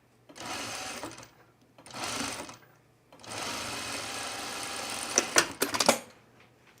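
Domestic sewing machine stitching the side seam of a 1930s-inspired blouse, running in three close bursts of steady whirring with brief pauses, ending in a few sharp clicks and knocks.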